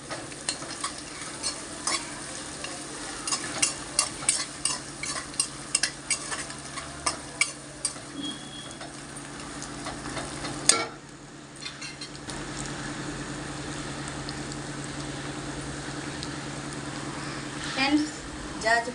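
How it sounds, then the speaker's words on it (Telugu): Ginger garlic paste stir-fried in oil for plain biryani, a continuous sizzle broken by rapid rhythmic scraping of a spoon against the pan, with a brief clatter midway and the frying carrying on steadily. "అల్లం వెల్లుల్లి పేస్ట్ వేసాను. కలుపుతున్నాను ఫ్రెండ్స్."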